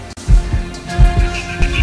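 A heartbeat sound effect from a Filipino TV game show, loud, deep double thumps repeating at a slow, steady pace over a low sustained hum.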